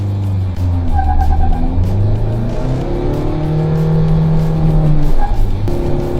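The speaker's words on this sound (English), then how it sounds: "Into first gear, left foot on the clutch. Revving the motor, revs to 3000 RPM." A Mahindra XUV700 from 2022 revs its engine up to 3000 RPM in first gear with traction control off on a test track, giving a loud, sustained droning roar that rises and holds steady close by.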